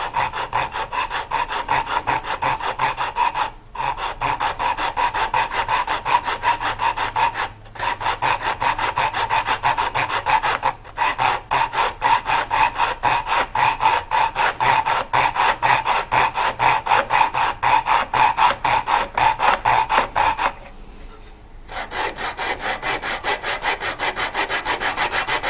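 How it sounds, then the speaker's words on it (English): A flush cut saw trims mahogany cockbead on a curved blockfront chest with steady, rapid back-and-forth rasping strokes, close and alone, with a few brief pauses between runs. "I'm just using a flush cut saw here that follows along the"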